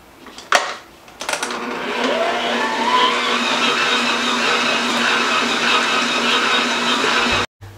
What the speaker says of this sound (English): you're going to mix this on high speed